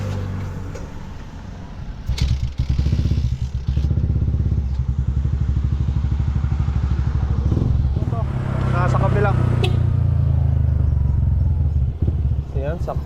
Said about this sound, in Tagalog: Painitin ko lang yung makina ni Mia nang makalabas na tayo.